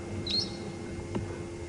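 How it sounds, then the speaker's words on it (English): A brown-headed parrot gives a short shrill shriek at a game reserve. One high call stands out, followed by a fainter chirp, over a quiet outdoor background. "that's the brown-headed parrot that we've heard letting off its very typical parrot-like shrieking call"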